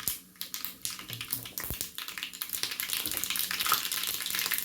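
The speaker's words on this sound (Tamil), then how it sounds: "கடுகு போட்டுக்கலாம். பொரிட்டும்" Mustard seeds spluttering in hot oil for a mango pickle tempering, a dense crackle of quick pops and sizzling that grows steadily louder and busier.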